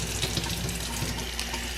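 Warm water runs steadily from a kitchen tap while bread is being prepared, a continuous close splashing rush into the sink with no talking.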